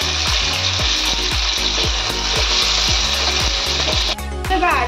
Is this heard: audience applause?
no